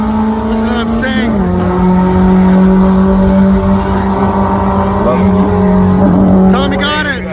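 A loud race car engine drones steadily at high pitch near the top end, its tone dipping once then holding, with a voice talking over it throughout.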